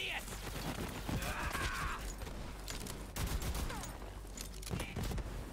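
Assault rifle gunfire in the video game Borderlands 3, continuous rapid shooting layered over game noise and effects, fairly loud, with a voice talking faintly underneath.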